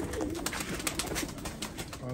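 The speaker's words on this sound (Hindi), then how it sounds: "देखो जी डब वाले कबूतर," Soft cooing of dub-type Kasuri pigeons in Punjab mixed into a busy, noisy background with some rustling and faint voices throughout.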